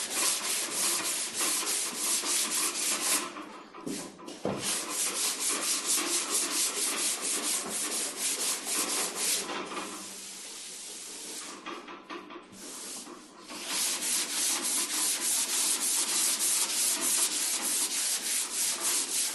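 180-grit sandpaper is worked by hand across the body panels of a 1979 Bronco, giving close, continuous rasping strokes in steady rhythm with two short pauses in between. No one talks.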